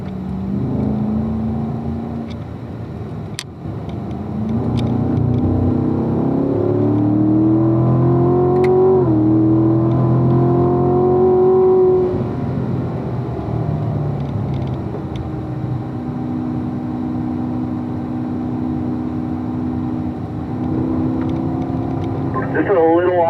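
Race car lapping a racetrack, engine rising and falling in pitch through long corners and straights, loud and steady throughout, with a coach talking over the engine noise.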